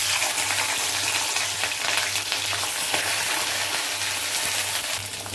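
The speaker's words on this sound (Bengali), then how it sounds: "ক্যাপসিকামটা একটু ভেজে নেব।" Capsicum fries in hot oil in a wok, giving a loud, steady, dense sizzle that continues without a break, with no voices.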